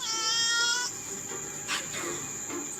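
A single wavering meow from a cat on the road near a warehouse opens the moment, followed by faint scattered noises over a constant background hum.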